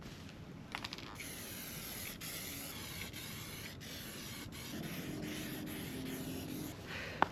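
Steady hiss of a spray can laying a second coat of paint on alloy wheels, continuous and close with a few faint clicks and a sharp tap at the end.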